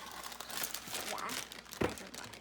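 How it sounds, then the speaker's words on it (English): A cake mix packet for cupcakes being handled, its plastic crinkling softly and continuously up close, with one sharper crunch near the end. "So now we need to add the cake mix, of course."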